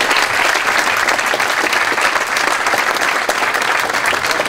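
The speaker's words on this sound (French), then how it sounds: "Et donc on l'applaudit bien fort." Audience at a French football federation diploma ceremony applauding loudly, a thick, sustained burst of clapping from a large crowd that stays full and even from start to finish.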